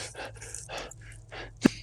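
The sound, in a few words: person panting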